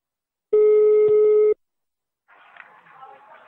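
A single loud telephone ring tone sounds for about a second as a radio host places a call, followed by a pause and then faint, muffled line audio.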